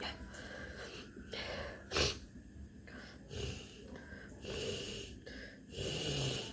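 Close, wet nose-blowing snorts and sharp sneeze bursts come in irregular bursts, with a few spoken words mixed in.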